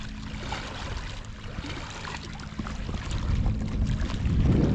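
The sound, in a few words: creek water flowing at Wild Creek Falls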